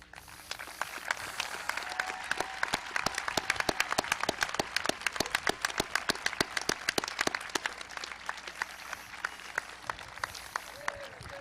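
A crowd at a high school graduation applauds steadily for several seconds, dense clapping that swells then gradually thins out toward the end.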